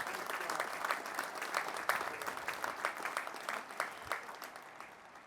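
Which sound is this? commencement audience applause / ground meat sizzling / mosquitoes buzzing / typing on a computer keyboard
commencement audience applause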